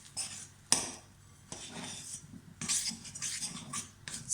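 Scone dough being mixed with a little liquid in a bowl, heard as repeated scraping and clinking of a utensil against the bowl in short bursts, fairly quiet and close, with no talking.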